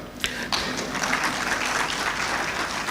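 Audience applause fills a graduation congregation ceremony hall, a steady wash of clapping from a large crowd that continues throughout after a couple of sharper initial claps, fairly loud and without clear speech.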